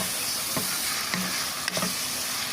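Beef liver simmering with vegetables in a covered pan, a steady soft sizzle and hiss with a few faint stirring knocks, no talking.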